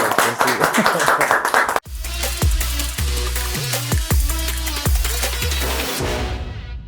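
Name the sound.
audience applause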